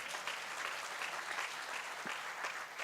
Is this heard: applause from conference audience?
yes